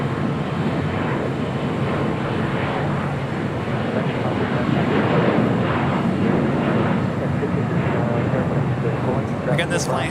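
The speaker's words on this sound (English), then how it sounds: "this flight heading to JFK, flight 670. This is 33-year-old 767-300ER" A 33-year-old Boeing 767-300ER on flight 670 to JFK at LAX, its engines a continuous, moderate roar that holds steady throughout, with people talking over it.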